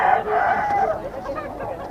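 Sweater bloodline gamefowl rooster crowing at a busy pet market, one loud close crow that rises and trails off over under two seconds, with background chatter.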